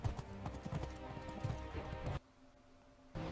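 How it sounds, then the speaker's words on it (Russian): A horse gallops at an unhurried pace, rhythmic hoofbeats thudding over a dense background for about two seconds before dropping to near silence, then resuming. "как лошадь уже скачет"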